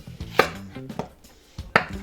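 A knife chops through a yellow onion on a cutting board in four sharp, close strikes spaced unevenly across a short stretch.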